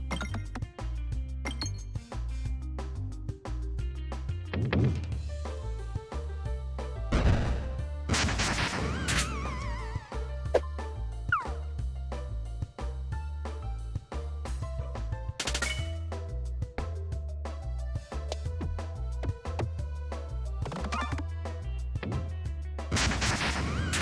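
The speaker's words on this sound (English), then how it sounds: "Partially hit 2 bombs there. Detonate this one." Bombs detonating in the video game Peglin, a dense run of crashing, clinking blasts and sharp impacts over steady game music, with several loud bursts spread through the stretch and no talk.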